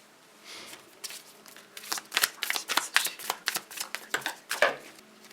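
Oracle cards are shuffled by hand in a rapid series of crisp riffling flicks and soft slaps, close and fairly quiet, with no talking.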